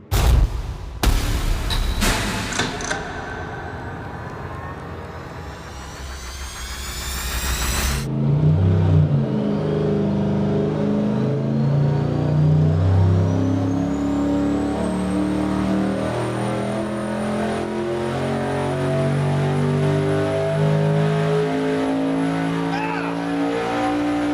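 Engine built on a stock junkyard short block, making 1,500 horsepower as it revs hard on a dyno; a loud sustained roar with rising pitch and heavy mechanical harmonics after an opening burst, with people talking over it.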